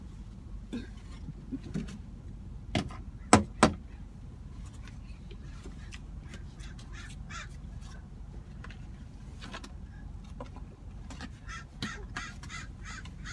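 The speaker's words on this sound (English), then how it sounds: "All the crows are here to eat, and the seagulls." Crows caw repeatedly outdoors, some calls close and loud and others farther off, in irregular bursts over a low background rumble, with seagulls also present.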